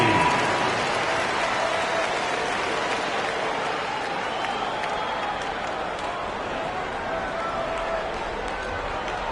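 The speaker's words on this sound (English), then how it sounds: "Round of applause for your dance team." Broad, continuous crowd applause, fairly loud at first and easing slightly, with a faint murmur of voices underneath.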